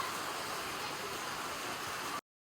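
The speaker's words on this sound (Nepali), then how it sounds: "अब कति बेला रुक्छ त्यो पानी" Steady, dense rain falling during a family outing in Nepal, a continuous broadband hiss, loud and close, with no voices, cutting off abruptly near the end.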